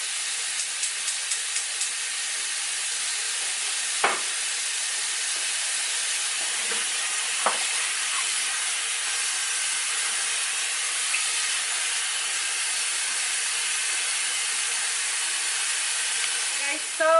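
A pot of tamales steams with a continuous soft hiss, broken by a couple of faint knocks and a small clatter at the very end.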